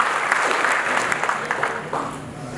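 Audience at a live event in India honoring Maulana Abul Kalam Azad claps steadily, a dense, continuous round of applause welcoming a speaker to the stage, filling the room with no talk over it.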